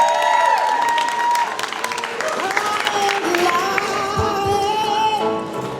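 Crowd at a classic and custom car show claps and cheers for presented guests, applause lasting several seconds beneath an announcer's amplified voice and background music.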